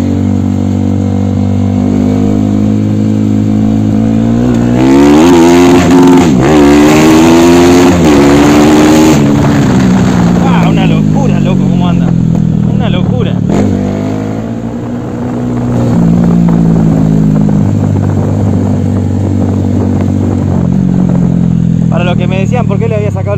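A Bajaj Rouser NS 200 motorcycle fitted with an enlarged carburetor jet and a BMB air filter revs loudly up close, its engine note climbing and falling in repeated throttle blips with a brief dip midway.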